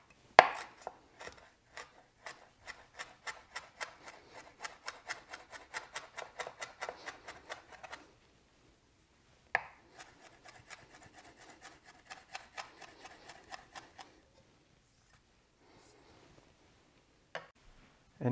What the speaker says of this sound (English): you just want to run a knife through that to chop them up a little bit more finely